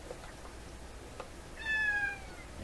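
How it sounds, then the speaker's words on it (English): A cat gives one clear, drawn-out meow near the end, close and moderately loud, over a quiet room with faint background noise from radio repair work. "There comes my cat Peanut."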